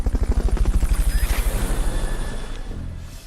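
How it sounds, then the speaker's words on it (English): A Fulton recovery helicopter in Metal Gear Solid: Peace Walker beats its rotors in a loud, rapid, regular thumping pulse that gradually softens and recedes, with a brief whooshing sweep partway through. "Fulton recovery helicopter is complete"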